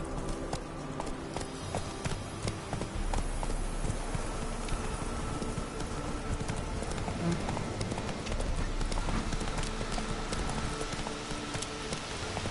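Roach, a horse in a Witcher game, trots at a steady clip-clop rhythm, hooves beating continuously over a wash of rain-like hiss, moderately close and unbroken, with no talking.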